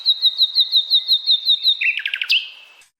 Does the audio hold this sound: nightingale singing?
yes